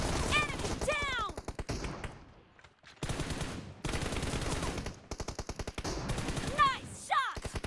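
Rapid bursts of gunfire from a team-match shooting video game, including repeated rattling automatic volleys and sharp single shots, with game voices and electronic sound effects between the bursts.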